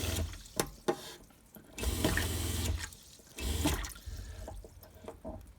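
Cold water from a pump-fed mixer tap in a camper van runs in bursts, a steady rushing flow that starts and stops a few times, with small clicks and drips between.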